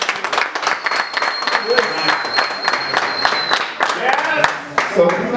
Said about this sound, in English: Clap in for yourselves.